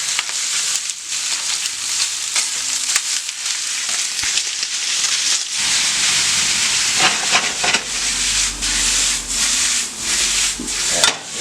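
Chorizo sizzles in a hot pan with a steady, close, hissing crackle that swells in intensity partway through, with no talking over it.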